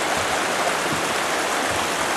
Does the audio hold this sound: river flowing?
yes